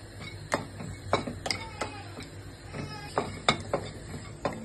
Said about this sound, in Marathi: आता आपण खोबऱ्याचे काप भाजून घेऊयात।